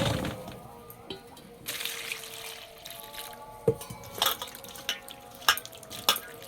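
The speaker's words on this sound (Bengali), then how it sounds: "শাক আর টমেটো ধুয়ে নেব।" Greens and tomatoes rinsed in a sink, giving a soft steady wash of water with scattered drips and splashes, plus a few sharper clinks and handling knocks toward the end.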